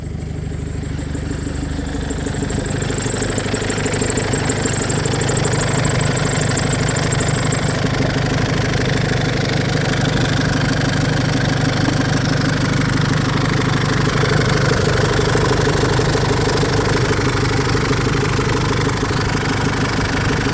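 An Isuzu D-Max single-cab pickup truck engine idles just after starting, a steady, loud, low rumble with an even mechanical chatter that holds unchanged for about twenty seconds.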